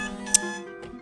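An alarm sounds a brief electronic tone with a sharp click partway through, lasting about a second and heard alone.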